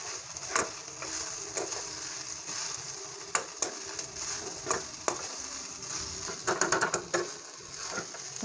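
Spice masala for an egg curry roasts in a pan on a medium gas flame, giving a soft steady sizzle with repeated scraping and stirring clicks from close by.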